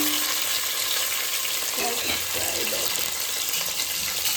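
Chopped tomato frying in an onion tempering in a pan, a steady sizzle with stirring scrapes and brief faint voices partway through.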